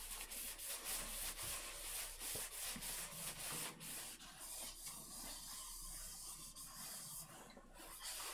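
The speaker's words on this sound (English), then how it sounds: "Some sanding" Steady abrasive scratching of sandpaper on a wooden bowl, with rhythmic rubbing strokes, close and moderately loud, no voices.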